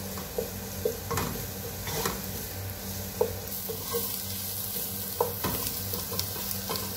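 Onions sautéing in a little oil, a steady broad sizzle with occasional scraping stirs and light clinks of a utensil against the pan, continuous and fairly close.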